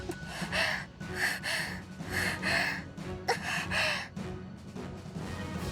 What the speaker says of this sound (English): She's panting hard